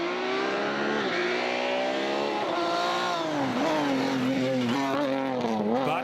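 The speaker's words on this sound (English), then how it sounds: "Dave Strong's Honda-powered Fiesta still the best-sounding car on the New Zealand rally roads." Dave Strong's Honda-powered Ford Fiesta rally car at Rally Otago in New Zealand screams loudly through gear changes, its high engine note repeatedly climbing, dropping and revving again over six seconds, close and with no talk.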